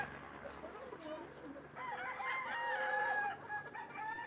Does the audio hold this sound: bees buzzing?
no